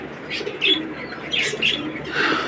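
Domestic pigeons scramble for feed on a windy afternoon, with a handful of close chirps and calls rising over a rushing, breathy background, no talk.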